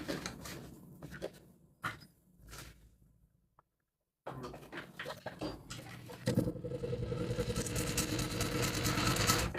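Sewing machine stitching a centred piece of fabric down, a quiet start with a few short bursts of mechanical clatter, a brief silence, then a steady loud whirring run of stitching that continues to the end.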